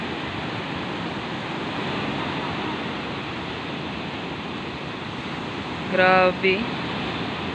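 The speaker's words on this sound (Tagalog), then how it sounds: "Laki ng alon ngayon, guys, kasi mahangin." Big sea waves churned up by wind on the Philippine coast make a steady, loud, unbroken roar of surf and gusting air, with a brief exclamation from a voice near the end.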